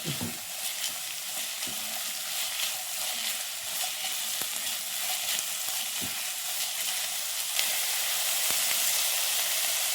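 Shallots and curry leaves frying over a raised flame in a pan, for a spicy squid roast, give a steady, dense sizzle that crackles continuously and fairly loudly throughout, with no voices.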